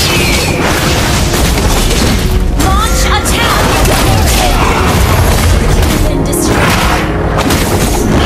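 Booming explosion of a destroyed turret in the mobile game Mobile Legends, loud and continuous amid dense battle effects, with an announcer voice and in-game chatter layered over the blasts.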